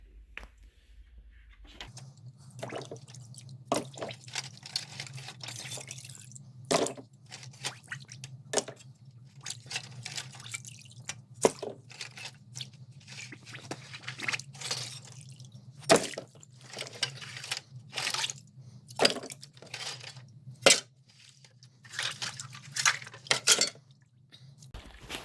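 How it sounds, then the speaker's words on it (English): Old carburetor and engine tin parts from a 1974 Volkswagen Beetle are rinsed in a bin, with a steady low hum of running water underneath intermittent splashes, drips and metallic knocks as pieces are handled, close and fairly quiet. "we've got the hot water running now with the hose, so I'll go ahead and rinse everything off"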